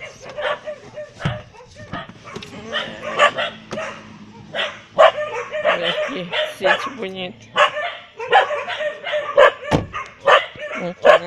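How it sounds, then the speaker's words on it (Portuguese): Several dogs at a rural property bark and yip excitedly, sharp, repeated barks with some whimpering, close and loud, while someone talks over them. "Os cachorrinhos aqui."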